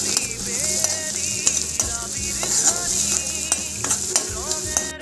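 Onions fry with turmeric and salt in a pan, a steady bright sizzle with repeated scrapes and clicks of stirring, and no voices.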